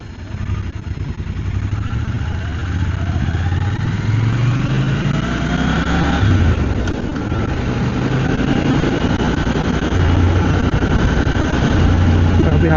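Triumph Scrambler 1200 X motorcycle engine in sport mode, a loud, close, rumbling idle with rising and falling revs throughout, while a person talks over it.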